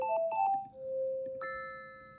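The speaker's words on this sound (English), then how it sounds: "You can change the timer chime here" A recipe app's timer chime sounds alone in a clean electronic pattern: a few quick bright pitched beeps, a longer sustained tone, then a final higher shimmering ding that fades out.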